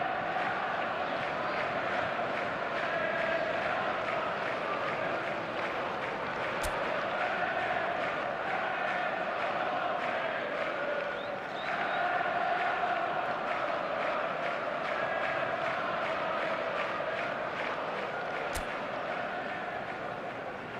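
Stadium crowd noise from the eFootball video game is a steady, loud roar that fills the background, with a commentator's voice faintly audible.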